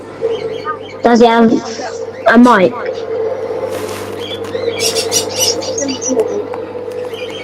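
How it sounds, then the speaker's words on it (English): Birds chirping and tweeting in a room during an online gaming chat, faint high calls scattered under people talking and a steady low hum. "Apologies for the birds."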